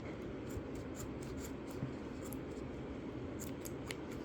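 Repeated crisp snips of scissors working through a cord, spaced irregularly over a steady low hiss of background noise.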